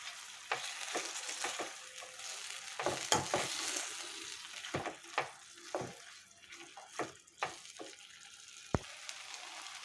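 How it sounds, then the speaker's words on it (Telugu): Tomato pieces with turmeric and salt frying in a pan, a soft continuous sizzle broken by repeated scraping and tapping as a spatula stirs them, moderately close and fairly quiet. "ఈ టమాటాలు వేగిపోతున్నాయండి."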